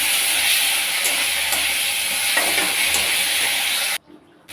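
Garlic, green chili and onion paste sizzle steadily in a hot pan, a dense continuous frying hiss with faint stirring scrapes that cuts off abruptly near the end.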